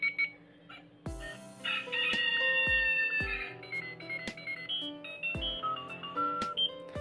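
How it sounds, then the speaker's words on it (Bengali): A classic talking wrist watch plays its alarm: a series of electronic melody tones and a synthetic rooster-crow sound, with sharp clicks from the side buttons between them, close and clear, no speech. "এখানে বেশ অনেকগুলো মেলোডি সাউন্ড এবং মোরগের একটা সাউন্ড রয়েছে"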